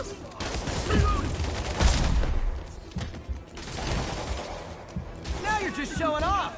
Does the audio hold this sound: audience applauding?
no